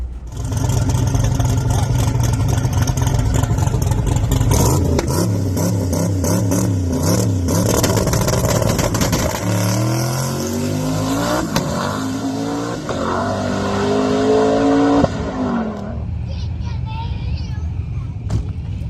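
Stick shift drag car at a World Cup Finals eighth-mile race, with a loud engine roaring as it accelerates through rising gear pulls, then cutting off near the end, and voices talking over it.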